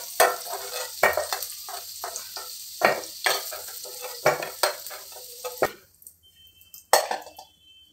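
Fried potatoes for khichuri are lifted from a pan, with repeated sharp scrapes and clinks of a spatula against the metal over a light sizzle, then a quieter pause and one last scrape.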